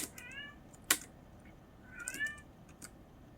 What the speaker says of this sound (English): ignore the cat you're hearing